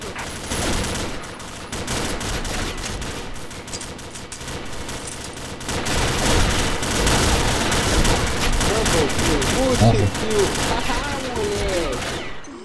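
Rapid bursts of automatic gunfire crackle continuously in the online shooter game Combat Arms, dense and loud with overlapping shots, while a voice speaks briefly under the firing.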